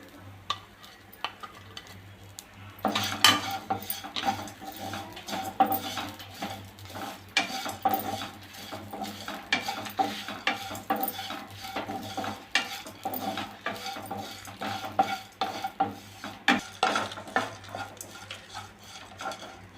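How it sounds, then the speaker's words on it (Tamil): Grated coconut with spices sautéing in a pan for Chettinad crab gravy: a soft sizzle under repeated scraping and stirring strokes of a spoon against the metal, fairly close and irregular. "அது கூடவே இந்த தேங்காய் பூவையும் சேர்த்து வதக்கிக்கலாம்."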